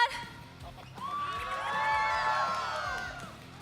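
A crowd cheers and whoops at a Mobile Legends: Bang Bang esports grand final, with high children's shouts swelling to a peak and then easing off.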